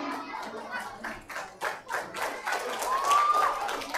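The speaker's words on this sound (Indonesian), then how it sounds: "Ya, tepuk tangan dulu teman-teman." A group of children claps their hands together at a school anti-bullying session, sounding as a quick burst of uneven, fairly close claps with some murmured talk underneath.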